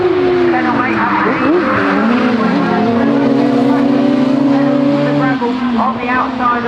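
Rallycross buggies race at Croft Circuit, engines snarling and whining through a corner with shifting pitch and tire noise, loud and continuous under commentary.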